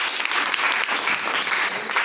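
A classroom of students clapping for a classmate, a steady burst of close applause throughout with no talking.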